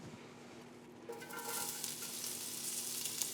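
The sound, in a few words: sliced onions frying in oil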